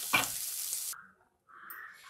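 A brief hiss and sizzle of mint leaves frying in a hot pan, cutting off abruptly, then a softer sizzle resuming.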